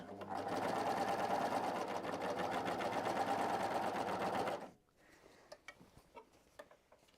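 Sewing machine stitching Christmas pajamas, a steady rapid mechanical whir running close for several seconds, then stopping abruptly, followed by faint clicks and handling noises.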